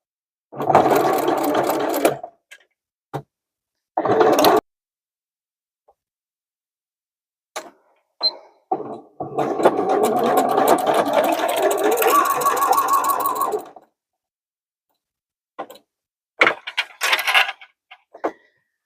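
A sewing machine stitches the seams of a zipper pouch sewn from fabric scraps, running in several bursts of steady, close whirring, one long run and shorter runs separated by pauses.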